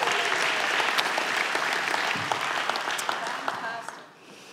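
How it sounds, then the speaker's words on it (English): Church congregation giving a round of applause, lively clapping with a few cheers mixed in that gradually fades out toward the end. "Let's give a big round of applause"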